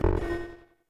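Stereo audio loop collapsed to mono with phase cancellation, a hollow, thin tonal sound with a low hum that decays quickly and fades to silence within under a second.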